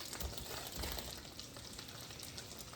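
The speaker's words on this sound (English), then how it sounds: "So I've got butter, a little bit of oil, and to that I'm going to put a cup of slivered mushrooms" Slivered mushrooms frying in butter and a little oil, a steady close crackling sizzle with soft stirring bumps, no one talking.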